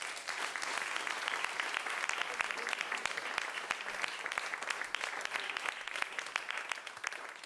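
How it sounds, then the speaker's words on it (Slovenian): Studio audience at a live radio show applauds a band, with sustained, crisp clapping and sharp individual claps standing out across the whole stretch, steady and moderately close. "Dajmo en aplavz za nje."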